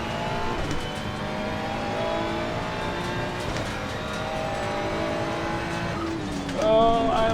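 A race car engine in a sim racing game revs and climbs through gears with steady harmonic whine, braking and downshifting mid-run before a sharp rise near the end; a voice talks faintly underneath.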